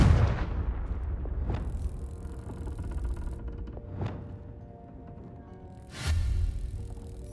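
Fire blast spell cast in Hogwarts Legacy, a booming burst followed by rumbling, with several more heavy blasts at intervals over a low roar of game ambience.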